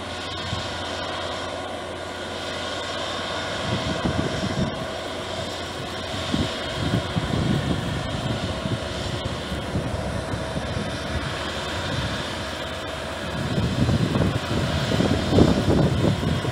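A heavy Cometto girder carrier engine drones steadily throughout while carrying girder 386 out of a tunnel, a loud continuous rumble with rising surges near the end.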